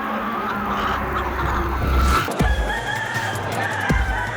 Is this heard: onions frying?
no